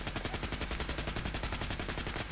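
Sustained automatic weapon fire in Fallout, a dense, unbroken rattle of quick, regular shots holding at constant loudness from start to finish.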